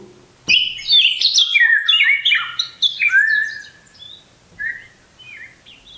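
A bright, warbling bird call rises after a sharp onset, chirping and trilling for several seconds before fading into a few softer notes.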